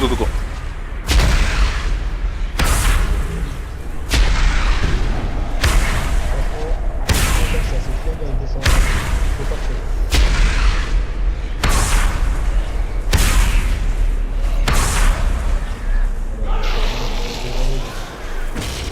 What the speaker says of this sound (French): Les cacs, attendez qu'il explose